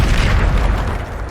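Bombarda explosion spell going off in Hogwarts Legacy, a loud, booming blast with a rumbling low-end roar that decays over about a second, no speech.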